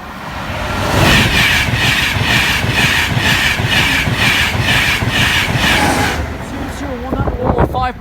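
A train rolls past the Barnby level crossing, a loud steady rush with rhythmic wheel clatter for about five seconds, then fading as someone speaks near the end.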